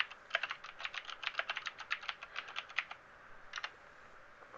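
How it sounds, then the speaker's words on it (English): Rapid clattering keystrokes on a loud computer keyboard come in a quick burst, then a short pause and a final few taps, close and crisp with no speech. "My keyboard's probably loud as shit"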